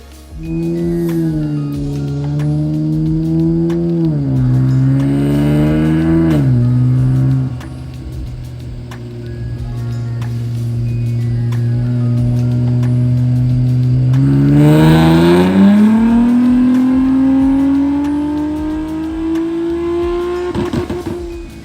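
A BMW E30 with a Q60 engine swap revs hard on a dyno, steadily climbing in pitch, dropping back briefly, then winding up again in a long, loud sustained pull.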